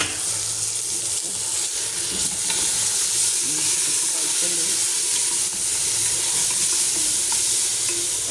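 Meat and onions frying together in a pan, a loud continuous sizzle with stirring scrapes running throughout at close range.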